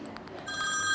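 A telephone bell rings in a quiet room, a couple of short faint bursts followed by a steadier, louder ringing tone that builds toward the end.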